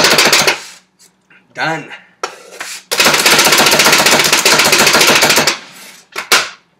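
Half an onion chopped on a board with a knife: rapid, loud, close bursts of dense chopping strokes separated by short pauses, with a brief spoken word near the end.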